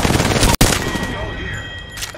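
An enemy squad fires in a battle royale shooter, a loud, dense burst of rapid gunfire that cuts off abruptly for an instant and resumes, then trails into ringing echoes.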